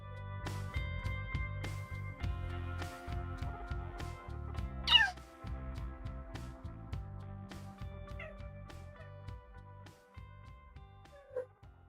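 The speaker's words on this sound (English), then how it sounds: "And the cat is coming." A cat meows a few times, with short rising calls standing out over a steady, low background hum and faint tonal sounds.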